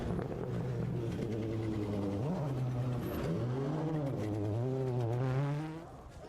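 A rally car nears on a stage road, its engine note climbing and sweeping in a steady loud drone of rising and falling revs that fades slightly at the end.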